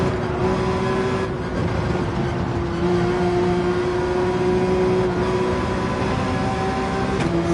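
A race car engine drones steadily and loudly throughout a Gran Turismo 7 online race, with a car closing in from behind; the sustained engine tone holds nearly constant pitch with a faint extra whine near the end.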